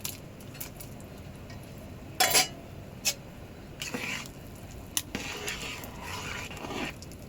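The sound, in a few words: stirring rice with spices and fried potatoes in pot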